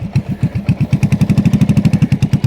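A motorcycle engine chugs close by during a riding lesson, a loud, fast, even rhythmic putter that holds steady with no talk over it.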